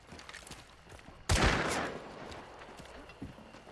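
A single loud gunshot blast with a trailing echo in Hunt: Showdown, standing out sharply over quiet background with faint clicks and a softer pop afterward.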